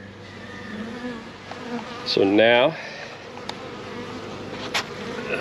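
A freshly installed package of honey bees drones steadily in the hive, with a brief spoken phrase and a few light knocks over the buzz.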